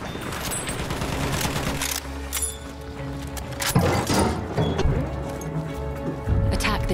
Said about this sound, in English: I think a sniper's taking pot shots at me